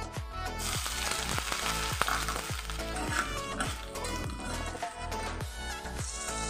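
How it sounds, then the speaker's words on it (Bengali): Grated ginger sizzles in hot oil with a steady, dense frying hiss, punctuated by regular soft clinks or taps throughout, close and continuous with no talk. "এবার আদাটাও আমি দিয়ে দেবো তেলে"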